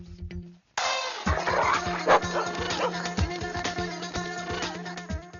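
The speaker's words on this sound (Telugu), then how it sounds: "ఇది మన కుక్కలా ఉంది" A dog barks and yips repeatedly in a comedy film scene, sharp rhythmic barks over busy background music and sound effects, fairly loud and close after a brief quiet start.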